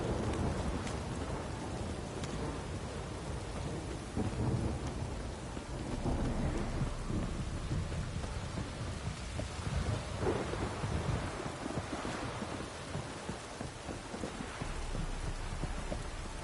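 Steady heavy rainfall pours down in The Witcher 3 Wild Hunt, with deep rolling thunder rumbling through the downpour; the storm sounds full and continuous throughout, with no voices.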